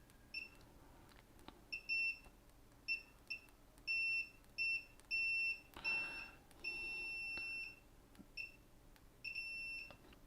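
An Owon XDM1241 multimeter's continuity tester beeps repeatedly in short, loud, high-pitched tones of uneven length, with faint clicks between them.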